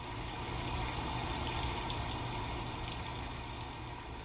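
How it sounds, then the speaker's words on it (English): Steady rain falling as a continuous, even hiss of water, moderately quiet and constant with no voices. "this is the sound of rain."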